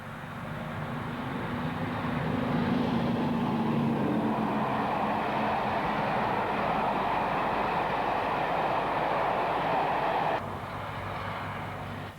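Class 55 Deltic diesel locomotive on the East Coast main line, a loud sustained engine roar and rumble of passing rail traffic holding steady for several seconds before dropping abruptly.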